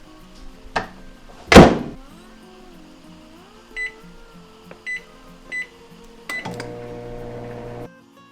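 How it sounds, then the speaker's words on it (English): A microwave oven heats a slime mixture containing borax, with a faint hum, a loud door thunk, several short beeps and then a steady running drone. "I tried microwaving it to really dissolve the borax."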